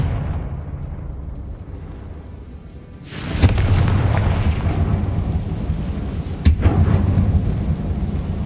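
Confringo blasting spell in Hogwarts Legacy, a loud explosive boom that erupts after a quiet stretch and rolls into a sustained rumbling roar, with a second sharp burst a few seconds later.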